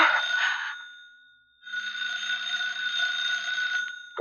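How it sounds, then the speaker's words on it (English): A telephone rings in a radio drama: two long, bright electric rings with a short silent gap between them, heard close and alone. "I was standing next to her at 11:30 when the phone rang."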